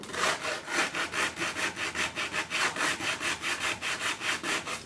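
Steady back-and-forth hand sanding on a wooden frame, a rhythmic rasping scrub repeating about four times a second, close and fairly loud.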